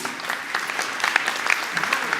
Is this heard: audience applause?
yes